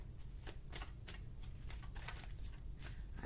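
Tarot cards being shuffled by hand in a quiet room, a steady run of soft riffling bursts and papery slaps repeating for several seconds, close and fairly quiet with no talking.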